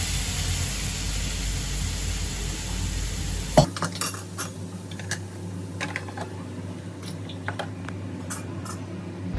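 Khandeshi kadhi of buttermilk and besan stirred in a cooking pot, a loud hiss cutting off abruptly, then scattered clinks and scrapes of a spoon against the pot, close and with no voices.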